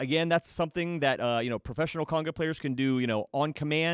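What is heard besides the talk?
No everyday noise stands out behind the speech.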